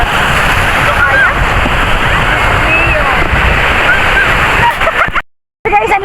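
Strong sea waves wash and slosh around a swimmer off Lantau Island, a continuous close, loud rush of water that cuts out abruptly near the end.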